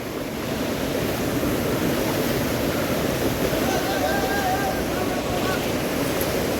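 Talasi Habbi Falls roars as water plunges down in a constant, dense wash of broadband noise with wind buffeting the microphone, steady and loud throughout.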